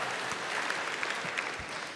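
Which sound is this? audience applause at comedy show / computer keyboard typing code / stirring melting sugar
audience applause at comedy show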